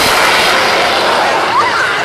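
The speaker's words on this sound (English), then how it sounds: "what you're hearing here is a Rolls-Royce Avon 203 engine." A Hawker Hunter jet with a Rolls-Royce Avon 203 axial-flow engine roars past at an outdoor seaside air display, a loud, broad, steady jet rush under public-address commentary.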